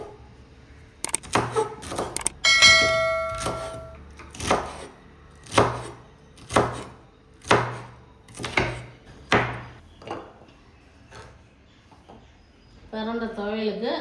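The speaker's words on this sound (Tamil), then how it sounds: "பொடியாக நறுக்கி வதக்கி துவையல் அரைக்க வேண்டியது தான்" A knife chops pirandai (adamant creeper) finely on a board in about a dozen sharp, evenly spaced strikes. A voice speaks briefly at the start and again at the end.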